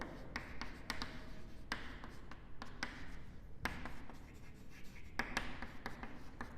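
Handwriting on a board or paper during a physics lesson on particle motion, a steady run of soft scratchy strokes and taps, close and quiet, with no talk over it.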